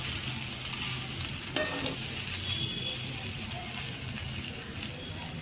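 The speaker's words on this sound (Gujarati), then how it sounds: "મુઠિયા ઢોકળાને ફેરવી લેશું." Muthiya dhokla sizzles steadily in a hot pan while a spoon stirs and turns the pieces, with one sharp metallic clink early on and a continuous close frying hiss throughout, no talking.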